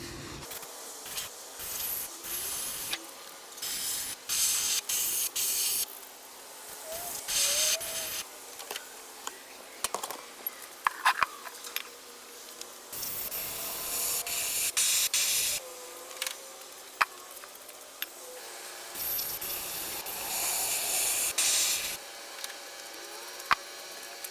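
Spray paint goes onto the wheels of a 1970 Volkswagen Beetle in light coats. Repeated bursts of hissing, some short and some held for several seconds, are separated by brief pauses outdoors.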